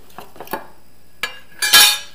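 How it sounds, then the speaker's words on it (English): A teaspoon lifted out and handled among other cutlery, a few light metallic clinks followed by a louder rattling scrape at the end, close up with no talking. "Let me get out a teaspoon."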